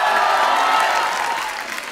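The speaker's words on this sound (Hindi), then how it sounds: "पहले तो इनके लिए जोरदार तालियां बनती" Studio audience applause at a Hindi comedy talk show, a dense wash of clapping that stays steady and full for two seconds before easing slightly toward the end.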